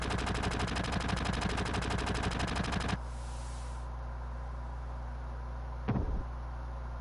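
Automatic gunfire in Final Fantasy VII rattles in one loud, rapid, continuous burst for about three seconds, then gives way to a quiet hum broken by a single short thud near the end, with no voices.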